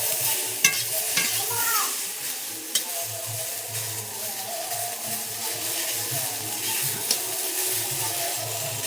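Eggplant pieces frying in a pan are stirred and turned, giving a steady close sizzle with scraping strokes and a few sharp utensil taps.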